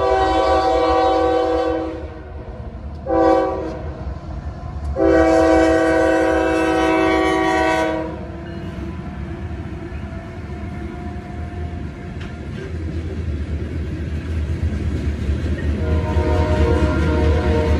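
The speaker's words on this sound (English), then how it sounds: "I hear a train coming. It's a rolling round the bend." Train approaching around a bend near a train museum, sounding long loud horn blasts in two bursts over a steady low rumble of wheels and engine that builds as it nears.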